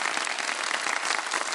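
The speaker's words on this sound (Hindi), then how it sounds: "तीनों के लिए बहुत सारी तालियां बजा दें" Studio audience applause on a Ramadan TV quiz show, a dense, steady wash of many hands clapping together at close range, unbroken for the whole moment with no voices on top.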